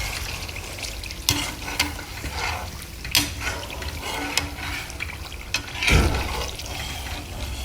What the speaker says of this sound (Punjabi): ਹੁਣ ਆਪਾਂ ਜਦੋਂ ਤੱਕ ਬਰਾਊਨ ਨਹੀਂ ਹੁੰਦੀ ਨਾ ਬਸ ਥੋੜਾ ਥੋੜਾ ਹੋਰ ਹਲਾਈ ਜਾਵਾਂਗੇ ਇਹਨੂੰ